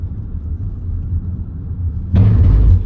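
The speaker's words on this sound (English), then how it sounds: "Cattle grid, if you wonder what that noise was." A car on a quiet rural road in North Wales, between Bala and Lake Vyrnwy, crosses a cattle grid. A steady low road and engine rumble gives way near the end to a sudden, loud, broadband metallic rattle lasting under a second.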